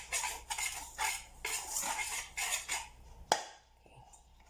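Roht dough ingredients of sugar, flour and cardamom powder mixed in a bowl, with rhythmic scraping and clinking of a utensil against the bowl in repeated bursts, close up, then a sharp knock and quieter tail.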